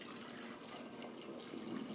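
Homemade raw apple cider vinegar being poured into an old vinegar container, a soft continuous splashing trickle, fairly quiet and steady, swelling slightly toward the end.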